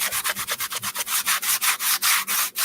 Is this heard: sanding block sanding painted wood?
yes